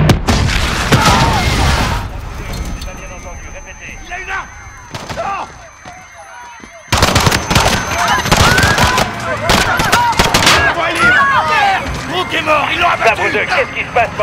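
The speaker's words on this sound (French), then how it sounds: "Des coups de feu, plusieurs agents touchés." Gunfire and explosions in the Call of Duty: Modern Warfare video game, with repeated loud shots and booming blasts, a brief lull and then a renewed dense barrage, while voices shout over the combat.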